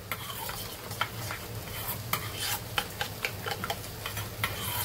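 A spoon stirs spice masala in a flat pan on a griddle, making a series of sharp metallic scrapes and taps over a low steady hum, close and moderately loud, with no speech.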